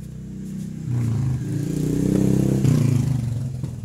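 A carbureted Honda Beat scooter engine with its stock NGK spark plug fires up and settles into a close, steady, slightly rough idle that swells briefly as it catches.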